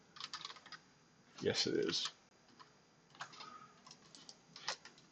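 Keys clatter on a computer keyboard in quick irregular bursts at close range, with a short spoken reply in the middle.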